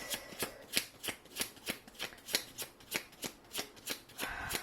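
Tarot cards are shuffled by hand in a brisk, even rhythm of crisp riffling snaps, about a dozen in quick succession, close and clear with no voices.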